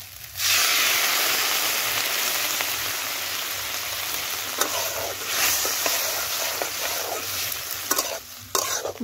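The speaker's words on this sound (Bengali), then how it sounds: "মশলা শুদ্ধ পেঁয়াজ কলি টমেটো সব ভালো করে কষে নেব" Spices, onion greens and tomato sauté in a pan with a little water, giving a steady, close sizzle broken by bursts of stirring and scraping.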